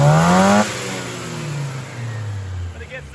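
A 1981 Dodge Challenger engine with a sluggish rev and freshly adjusted ignition timing revs up briefly, then the tone drops back into a lower, uneven drone, close and fairly loud.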